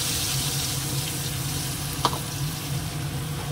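Spice mix hitting hot oil in a home kitchen while a Bengali dish flavoured with gondhoraj lemon is made, giving a steady, moderately loud sizzle with one sharp spatter partway through and no voices.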